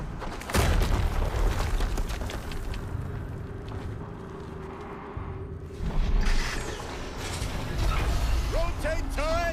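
Explosions rumble through a Horizon Zero Dawn Remastered game scene, a loud low boom at the start and another swelling later, over continuous mechanical din and game voices.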